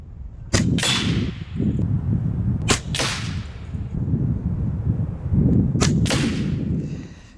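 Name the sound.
Taipan SLASH PCP air rifle shooting 25.39 grain pellet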